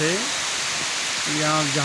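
Heavy monsoon downpour hisses continuously in the Baijnath area below the Dhauladhar hills, a broad, steady wash of noise, with a voice speaking over it at the start and end.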